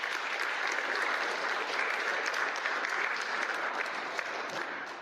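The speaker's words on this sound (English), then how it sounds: "So give yourselves a round of applause for you." An audience claps steadily through a live talk on securing college football scholarships, a dense, even wash of applause from a crowded room with no break in the sound.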